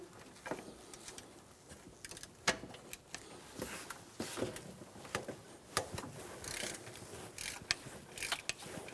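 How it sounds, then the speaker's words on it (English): A ratchet with a 14mm socket loosening the top drive belt tensioner bolt on a 2005-2015 Toyota Tacoma 2.7L four-cylinder, giving rapid repeated clicking bursts close up with no talking. "Using a 14mm socket, remove the top bolt for the tensioner."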